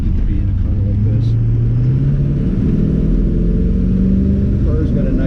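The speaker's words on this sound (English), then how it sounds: "The car's got a nice note to the exhaust. It's got a nice little growl to it." A 1934 Chevrolet Cabriolet engine and exhaust produce a steady, close, low growling rumble that holds throughout, with a slight rise in pitch as it runs.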